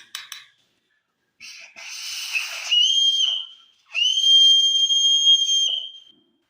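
A milk boiler's whistle blows in two long, shrill, steady steam tones, each preceded by hissing bursts, close and loud with no voices.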